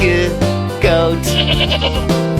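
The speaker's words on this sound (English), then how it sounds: "Goat." A goat bleats in a loud, wavering cry in a children's alphabet song, heard as a couple of quavering calls set against cheerful background music.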